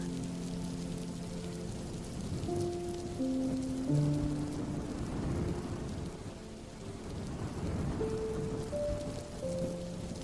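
Steady rain pours over a village courtyard in a cartoon, with a low rumble of thunder beneath the constant hiss and a few soft tonal notes drifting through.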